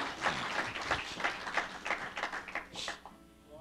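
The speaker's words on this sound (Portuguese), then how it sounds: "Un aplauso al Señor" A church audience applauds during a bilingual Spanish and Portuguese sermon, rapid scattered clapping of moderate loudness that thins out and fades near the end.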